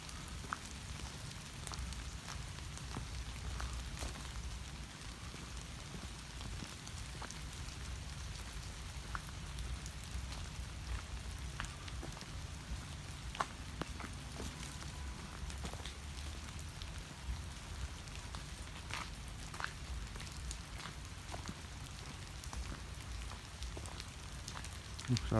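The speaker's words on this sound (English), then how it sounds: "out wet raindrops sort of falling down out of the tree. If you can hear it raining." Quiet, steady rain patters outdoors along a trail, with scattered drops dripping from a tree and a soft, continuous wash of rainfall throughout.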